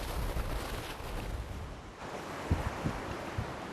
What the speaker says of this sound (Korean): 무시로 너울대는 파도 소리